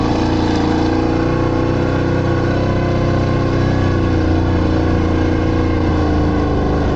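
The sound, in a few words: car driving out to the village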